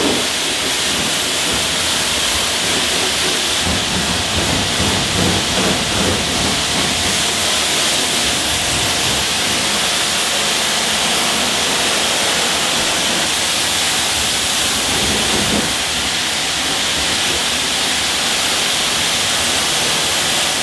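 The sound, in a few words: water rinsing a Mercedes GLE 63S car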